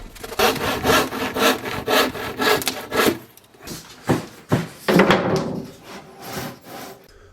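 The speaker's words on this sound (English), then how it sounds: "then I'll hand cut it to size" A handsaw cuts through wood in steady back-and-forth strokes, close and loud, with a brief pause partway before the rasping strokes resume and slow toward the end.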